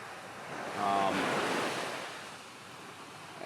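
Ocean surf on the Maui coast, a steady broad wash of breaking waves with wind buffeting the microphone, swelling louder for a moment before settling back, with no talking.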